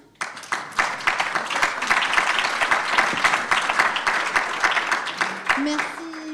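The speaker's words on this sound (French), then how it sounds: "Bon, bah écoutez, on peut les applaudir." Dense, sustained applause from a large audience at a regional conference on transport-system resilience in Provence, rising fast and holding steady for several seconds before a voice begins at the end.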